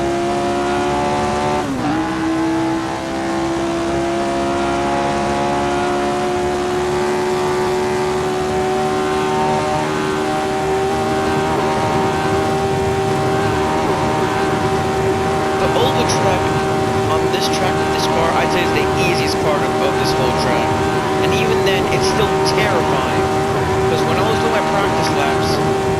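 Jim Clark's 1960s Formula-1 car in Assetto Corsa, running on the '66 Monza oval, its engine holding a loud, steady high-pitched drone throughout with slight pitch shifts, and faint talk audible underneath.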